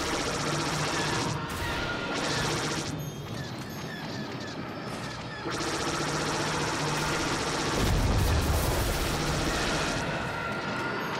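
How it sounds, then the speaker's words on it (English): Blaster fire rattles against waves of TIE Fighters in the Disney Infinity 3.0 Star Wars: The Force Awakens play set: a dense, continuous barrage of game shots and explosions with a brief lull partway through. "It's fun to shoot TIE Fighters."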